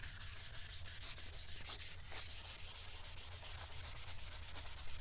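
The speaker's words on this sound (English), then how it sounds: "you notice I'm sanding only from side to side, not up and down" Steady, rapid side-to-side wet sanding of a foggy plastic headlight lens with fine sandpaper, close and continuous with a brisk even rhythm.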